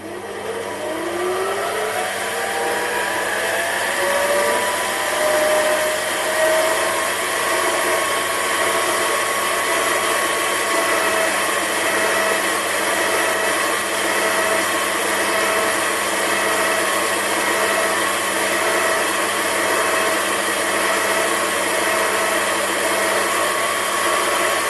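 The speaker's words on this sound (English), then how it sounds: "You can hear that the lathe barely slowed down." A small metal lathe turns steel with a DCMT indexable carbide insert at about 860 rpm, a steady loud motor whine rising as it spins up, then a constant hum with faint cutting hiss throughout.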